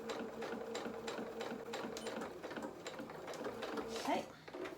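Domestic sewing machine stitching along a fabric edge and reversing, a steady rapid mechanical whir with rhythmic needle clatter throughout, fairly close, with a brief louder burst near the end.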